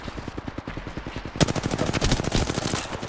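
Rapid automatic gunfire in Apex Legends, a steady stream of loud, close shots that grows denser and louder halfway through, with no voices over it.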